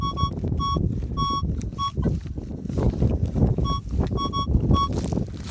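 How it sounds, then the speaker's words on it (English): Wind buffets the microphone outdoors on a rainy day of metal detecting, rough low rumbling gusts that come and go, with the detector's repeated high beeps sounding in short bursts over it. "Real windy, sorry about this."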